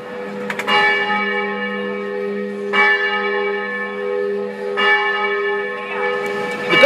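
Church bells of Saint Eustace in Rome toll for evening mass, three or four struck peals ringing out with long humming decay, fairly close and clear with no talking.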